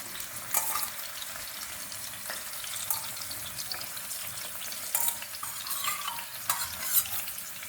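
Kudampuli tamarind water poured into a pan where mackerel fish pieces are frying, giving a busy sizzle and bubbling with scattered clinks and stirring scrapes, fairly close.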